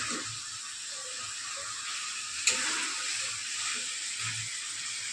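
Chicken kosha cooks in a pan, giving a steady close frying sizzle and hiss with a faint low rumble beneath and one brief sharp click partway through, no talk.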